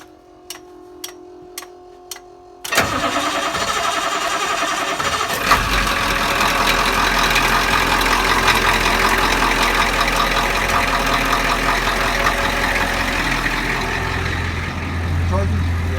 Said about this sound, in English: and then go ahead and crank it over, dude